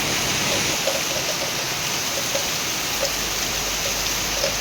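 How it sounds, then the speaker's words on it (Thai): Heavy rain pours down steadily, a dense, even hiss of water drumming on surfaces with scattered louder drops, close and constant with no voices. "ปริมาณน้ำฝนอย่างเยอะเลยจ้ะ"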